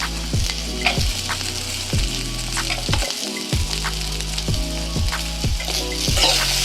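Garlic and green chilies sizzling in hot oil for chicken biryani, a steady close crackle with rhythmic stirring scrapes against the pan throughout.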